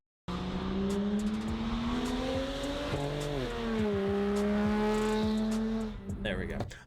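Stock BMW inline-six engine revving up after a sharp start, a strong steady drone rising and falling in pitch through several revs before cutting off near the end.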